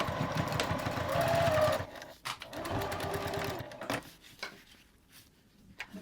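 A sewing machine back stitches the lining seam of a hip bag at a 1/4 inch seam allowance, its close, steady motor whir running in two bursts with a short pause between, then fading.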